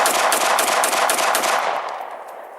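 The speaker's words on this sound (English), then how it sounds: "there's 8 rounds left. I'm going to try to empty it as fast as my little finger can with the long trigger pull" A Smith and Wesson SD40VE pistol is emptied as fast as possible with its long trigger pull, giving a loud, rapid burst of roughly eight sharp shots in quick succession that ends in a fading echo.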